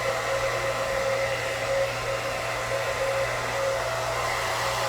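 A hair dryer blows continuously on thick, coarse curly hair, a steady close-up whooshing whir with no pauses and no voices.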